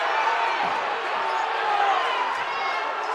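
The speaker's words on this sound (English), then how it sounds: "And the crowd are going crazy." Loud crowd roaring and cheering throughout at a VISAA Division II state championship basketball game between Miller School and Peninsula Catholic, a continuous dense wash of voices with faint court thumps underneath.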